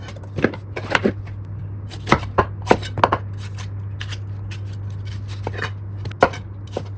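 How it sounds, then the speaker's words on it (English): A kitchen knife chops large potatoes into big, chunky triangular pieces, giving a handful of sharp, irregular cutting knocks on a board over a steady low hum. "Cut into big pieces as well, roughly triangle shape"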